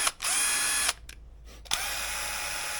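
A brushed cordless drill from Super Cheap Auto whines at high speed, close and loud, stopping briefly, giving a couple of short bursts, then spinning up again and running steadily.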